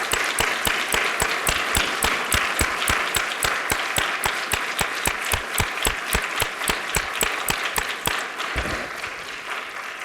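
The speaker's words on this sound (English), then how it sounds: "have everyone give them a round of applause" Audience applause at a CDC Grand Rounds event, with sharp, evenly paced claps, loud and continuous, tapering off near the end.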